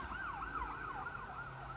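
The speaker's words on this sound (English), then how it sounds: "Those ambulances it's like they're coming into our hospital." An ambulance siren wailing along a highway, a rising and falling electronic tone at moderate distance over low road rumble, with no voices.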